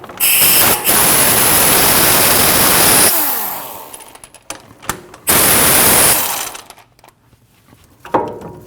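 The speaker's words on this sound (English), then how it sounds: "On the back side of your caliper, you have 2 10mm Allen bolts. You need to remove those." Ratchet working the two 10mm Allen caliper bolts on the front brakes of a 2012-2021 Nissan NV2500 van, giving two long bursts of loud, dense clicking, each followed by scattered clanks and tool handling, close by.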